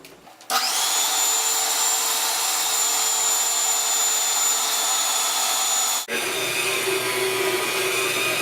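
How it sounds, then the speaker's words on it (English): An electric mixer beats cookie dough with a loud, steady motor whine that starts abruptly, dips briefly, then carries on at a slightly lower pitch. "And then you're going to mix it again until it's all blended together."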